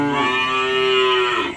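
A horned crossbred cow on a cattle farm gives one steady, loud, close moo that tails off at the end, with no talk over it.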